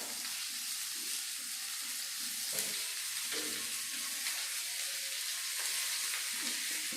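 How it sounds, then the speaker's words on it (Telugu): Onions fry in oil in a pan, a quiet, steady sizzle with faint intermittent scrapes and stirring knocks close by. "మిగిలిన ఉల్లిపాయలు మనము ఈ ఆయిల్లో వేయించుకోవాలండి దోరగా."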